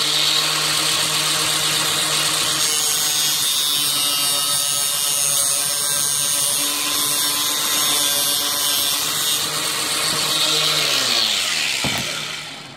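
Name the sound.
angle grinder cutting through braided brake line pipe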